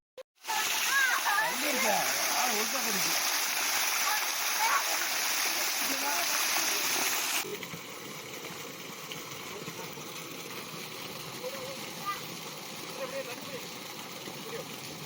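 Steady rushing water of the Karanthamalai waterfall fills the scene, loud at first then dropping to a softer, constant roar, with faint voices underneath.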